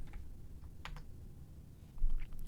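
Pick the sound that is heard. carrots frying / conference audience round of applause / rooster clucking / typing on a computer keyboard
typing on a computer keyboard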